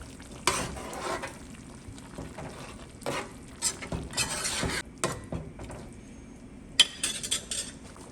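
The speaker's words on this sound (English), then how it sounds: "Now I'm going to add some onions and sweet pepper." Onions and mixed-colour sweet peppers with scallions sizzle loudly in a pot for Jamaican stew beef, broken by repeated bursts of stirring and metal utensil scrapes against the pan.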